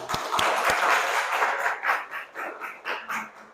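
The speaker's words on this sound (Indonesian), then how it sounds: "tepuk tangan juga untuk kelompok ini" Classroom applause for a student group during a lesson, starting with a few sharp claps and settling into a modest, uneven patter from a small audience nearby.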